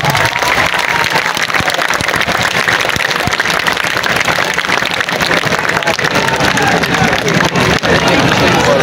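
Dense applause and crowd noise from a large open-air political rally at Baisakhi Ground, Dera Ismail Khan, clapping for Imran Khan; a steady, loud wash of claps and murmuring voices throughout.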